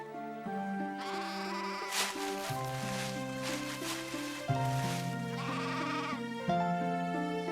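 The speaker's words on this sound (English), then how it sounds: "Jesus told how the shepherd wanted all of his lambs safe." Lambs bleat from a flock of sheep in a shepherd scene from a children's Bible story, with wavering, drawn-out cries that change pitch over a steady background that sounds musical.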